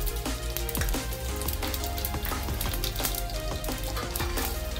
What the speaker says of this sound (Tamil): மஞ்சத்தூள் கருகாமல் நம்ம எண்ணெயில் வதங்கிட்டோம்